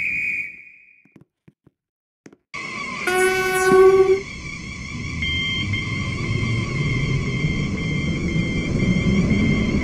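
A video game train with four coaches sounds a loud multi-tone horn blast, then settles into a steady rolling rumble of wheels on track that carries on to the end, with no talking.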